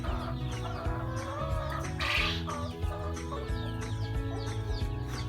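Young chickens about a month old cluck steadily and close by, a busy overlapping flock with a brief rustle partway through, no talking.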